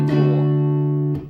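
An electric guitar chord is strummed once and left ringing, sustained and fairly loud, then struck again near the end as part of a barre-chord practice rhythm.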